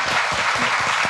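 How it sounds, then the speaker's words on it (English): A live podcast audience claps together in a short, dense burst of steady applause filling the room. "let's give them a round of applause"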